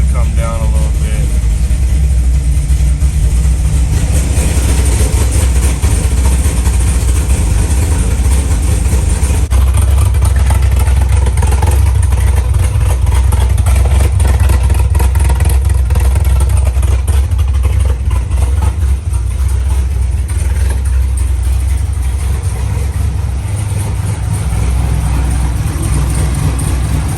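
A Camaro SS with a 416ci 13:1 compression V8 idles loudly and continuously, its lumpy, choppy cam rhythm pulsing close by, with occasional voices talking over the engine.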